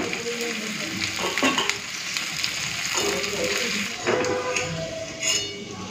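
Prawns frying in hot oil in a home kitchen, a steady dense sizzle with crackling bursts and a few utensil stirs and clinks, close and continuous.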